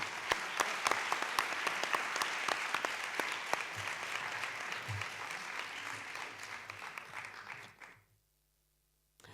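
Sustained applause from an audience at a testimonial panel event in Miajadas, dense steady clapping at moderate distance that thins slightly before cutting off near the end.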